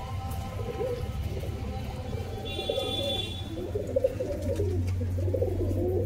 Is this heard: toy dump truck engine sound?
no